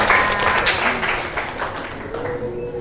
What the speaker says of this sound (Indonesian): beri tepuk tangan dulu ke Hani.